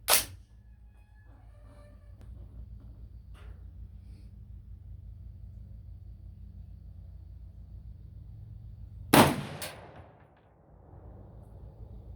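Two sharp, loud reports from a 16-inch 6.5 Creedmoor AR-10 rifle at an outdoor range, one at the very start and one near the end, each ringing briefly over a steady low background rumble.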